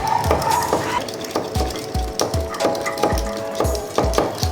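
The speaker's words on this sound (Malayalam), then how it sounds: "ഇനി നമ്മൾ വീണ്ടും ഒന്നും കൂടെ ഇതേപോലെ ബീറ്റ് ചെയ്ത് കൊടുക്കാം" Marshmallow mixture being beaten in a bowl, a steady rhythm of repeated stirring strokes and soft knocks close by, with no voices.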